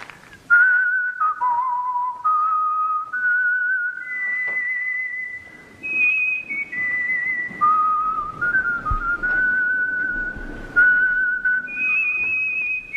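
A person whistles the Star-Spangled Banner solo, a clear sustained melody of held and gliding notes with short breaths between phrases, close and loud.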